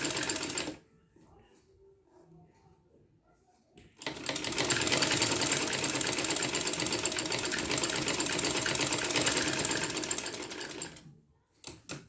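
A sewing machine stitches small fabric pieces for a dress frill, running in one loud, steady burst of about seven seconds after a quiet start, then stopping abruptly.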